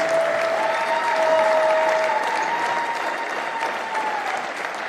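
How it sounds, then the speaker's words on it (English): Crowd at a squash league match in a stadium giving sustained applause, a dense wash of clapping with a faint tone held over it. "I would just like everyone to give a big round of applause to Ridderkerk for coming and performing"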